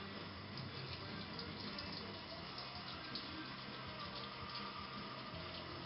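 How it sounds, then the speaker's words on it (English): Wort runs off from the mash during homebrewing of beer, streaming into a pitcher for recirculation: a steady, close splashing pour of liquid that holds constant throughout, with no talk over it. "Next we'll run off a few gallons of the wort and then pour it back in the top."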